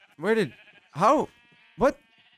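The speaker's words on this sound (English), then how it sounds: "Move out of the way, sheep!" Sheep in the video game Minecraft bleat three times in quick succession, each a short, wavering, nasal call, loud and close with brief pauses between them.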